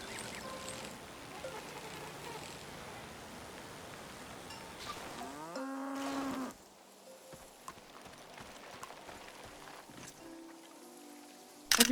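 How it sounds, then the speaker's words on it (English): A cow lows in the video game Season: A Letter to the Future, at a gathering where cows compete. A drawn-out moo rises briefly midway over a patter of rain-like ambience and hoof-like clip-clops, with another faint call near the end. "Cows from all over the world came here to compete in cow stuff?"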